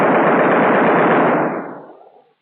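A B-17 waist machine gun fires one loud, sustained burst of rapid rattling shots lasting about a second and a half, then quickly fades away, heard alone.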